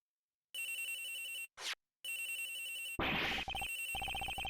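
A telephone rings in the Ace Attorney Investigations video game, a bright electronic trill in three or four bursts separated by short gaps, followed by a busier chiming game jingle.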